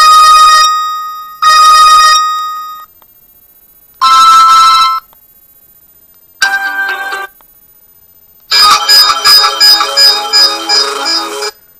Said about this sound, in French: Vous avez par exemple une dizaine de sonneries possibles qui sont très fortes